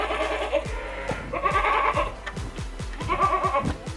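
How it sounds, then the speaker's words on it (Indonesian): A large Senduro goat from Lumajang, roughly two and a half years old and kept for Eid sacrifice, bleats loudly and repeatedly up close, with sharp clicking and knocking noises around it. "ini salah satu mungkin hewan kambing yang lumayan besar juga"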